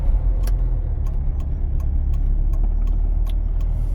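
A car pulls away on a driving exam route in Kryvyi Rih, its engine a steady low rumble close by with faint ticks and clicks over the top.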